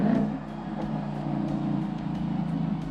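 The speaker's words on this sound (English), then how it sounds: "when you downshift, this specific Mustang has what is called rev matching" A Ford Mustang engine revving during a rev-matched downshift, a steady mid-loud drone with slight rises and dips, heard alone without talk.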